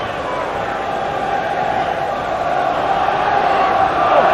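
A capacity crowd of 60,000 at a Celtic vs Hibernian league match in 2000/01 fills the stadium with a continuous, dense roar. The roar rises slightly toward the end, with a commentator talking over it.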